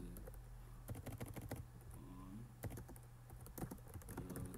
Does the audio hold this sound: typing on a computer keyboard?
yes